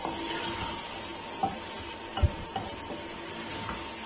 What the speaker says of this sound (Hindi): आहिस्ता आहिस्ता हम इसको मज़ीद भून रहे हैं